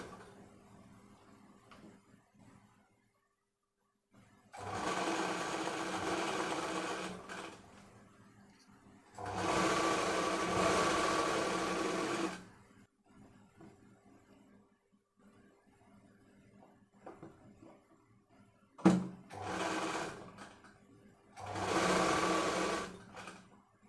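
A sewing machine stitches a dhoti pyjama in four separate close, rapid whirring bursts, with quiet pauses between them.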